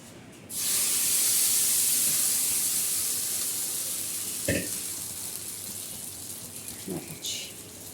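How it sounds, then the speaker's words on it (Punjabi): Hot tempering with blackened chillies hits chutney in a strong, loud sizzling hiss that bursts in and slowly fades over several seconds, with a few brief clinks and faint voices underneath. "ਇਹ ਜਿਹੜੀ ਮਿਰਚ ਆਪਾਂ ਕਾਲੀ ਕਰ ਲਈ ਤੇ ਹੁਣ ਆਪਾਂ ਇਹਨੂੰ ਪਾ ਦਾਂਗੇ ਚਟਨੀ ਦੇ ਉੱਪਰ"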